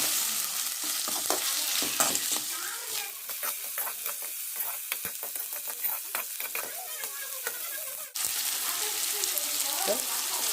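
Prawns sizzling steadily in a hot pan, with frequent scraping stirs of a spoon across the surface and a brief clatter near the end.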